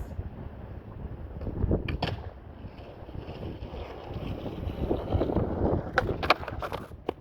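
A skateboard rolling fast on pavement, heard as a loud rumbling roll under heavy wind noise, with sharp clacks near the end as the board pops an ollie and lands.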